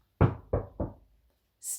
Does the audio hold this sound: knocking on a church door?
yes